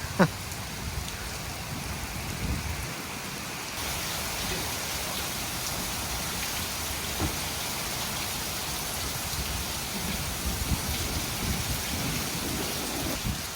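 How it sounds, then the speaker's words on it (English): Steady post-hurricane rain pours down after Hurricane Beryl, a dense, continuous hiss of drops on surfaces that stays loud and even throughout, with no voices. "Like a little post-hurricane rain."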